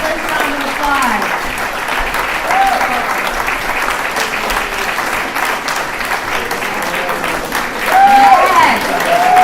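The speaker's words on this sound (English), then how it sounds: "a fabulous round of applause" A comedy show audience gives a sustained round of applause, dense clapping and crowd noise swelling louder near the end, with a voice calling out over it.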